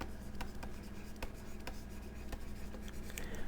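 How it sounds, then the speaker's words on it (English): Hebrew words are written by hand up close, giving a soft continuous scratch of pen on a surface with light taps at the start of strokes, against a faint steady background hum. "Let me write that better for you."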